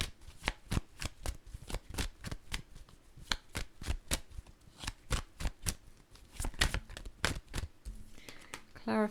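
Tarot cards being shuffled by hand in quick, irregular bursts of crisp riffling snaps, close and clear, ending with a brief flurry of rapid clicks.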